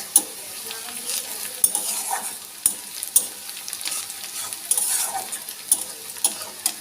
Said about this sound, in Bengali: এখন ভাজছি গিয়ে পেঁয়াজ